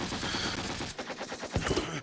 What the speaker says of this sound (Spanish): Kobrak, quita el trasero porque le están disparando